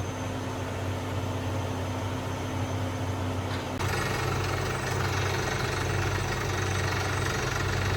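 A heavy well drilling rig engine drones steadily at close range, its loud mechanical rumble shifting slightly in tone midway and continuing without pause.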